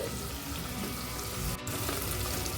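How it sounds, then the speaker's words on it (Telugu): Onions and green chillies frying in oil in a pan for aloo matar pulao, giving a steady hissing sizzle throughout, close and fairly loud, with one brief dip midway. "ఇప్పుడు ఈ ఉల్లిపాయలు పచ్చిమిర్చిని ఆయిల్లో బాగా ఫ్రై చేసుకోవాలండి"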